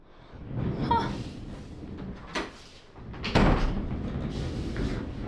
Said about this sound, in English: My door just opened.